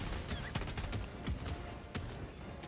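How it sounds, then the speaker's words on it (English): Shotgun gunfire in the video game Helldivers 2, a dense run of sharp blasts and impacts amid ongoing battle noise, fairly loud and busy throughout. "Oh, I'm shooting with a shotgun."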